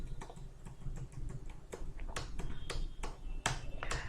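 Keys tapped on a computer keyboard while entering a bill of materials in Tally ERP 9 accounting software: a steady run of close, crisp clicks with a few sharper presses, over a low room hum.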